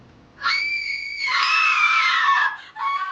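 A woman screams in agony as melting tanning goggles burn into her face, one long, loud, close shriek that rises, cracks and trails into a brief second cry, with no talk.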